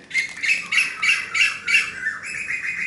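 Sparrows chirp in quick, repeated bursts, roughly five or six close squawky calls in a row, fairly loud against a quiet background.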